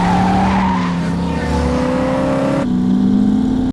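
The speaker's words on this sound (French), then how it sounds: "le démarrage en trombe" A car screeches away hard in a getaway scene from the film Drive (2011), its engine note climbing in loud, close revving while the tires squeal, then a sudden gear change and continued acceleration until the sound is cut off abruptly.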